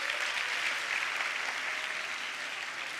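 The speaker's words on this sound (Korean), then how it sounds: "큰 박수 부탁드려요" A crowd at a church youth summer camp claps in a steady, even round of applause that stays fairly distant and continuous throughout, with no one speaking over it.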